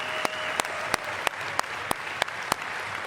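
Audience applause at the 2025 MLB awards ceremony as Brewers teammates are honored, a continuous wash of clapping with a regular series of sharp, closer claps standing out roughly every third of a second.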